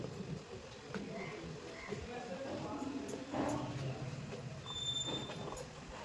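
A steady, low rumble of a train running on its tracks between Jalandhar and Hoshiarpur, heard from on board, with faint voices now and then.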